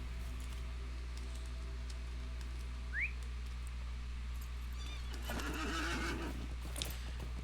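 A horse whinnies in the Lord of the Rings Online game, a short rising call standing out over a steady low hum, followed a couple of seconds later by a louder burst of movement.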